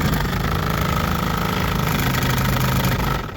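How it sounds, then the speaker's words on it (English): A 1979 Lincoln Mark with the air conditioning on, its AC blower giving a loud, continuous rough droning and rattling vibration close by, steady until it eases at the very end. "He's got a AC blower noise."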